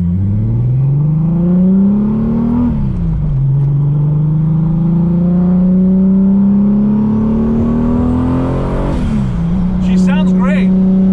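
A turbocharged VR6 in a widebody Audi S4 revs hard and close, its note sweeping up twice in long pulls, each dropping back to a steady idle-like drone in between.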